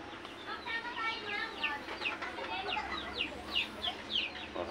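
Several chickens cluck and chatter close by in short, repeated bursts, with a low steady background hum underneath.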